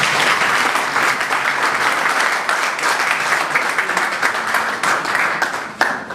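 Lecture audience at a Catholic university in Goma applauds a professor, a loud, sustained wash of many hands clapping close by, steady throughout with a brief swell near the end.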